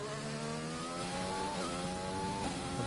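A racing car engine screams through a hot lap at Bahrain in a racing video game, revs climbing in steady tones and dropping sharply at gear shifts, loud and close with no voices.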